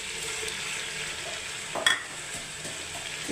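Chicken fries in a pan with a steady, close sizzle and occasional stirring, plus one brief metallic clink from the pan partway through, and no voices.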